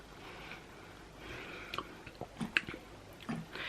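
Someone chewing a mouthful of sausage-meat pasta from a meal kit: soft, close, wet bites and squishes, quiet and irregular, with no talking.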